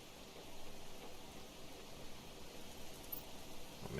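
Loud, steady rain hissing across the whole stretch in the survival game Planet Crafter, a dense broadband wash with no breaks and no voices.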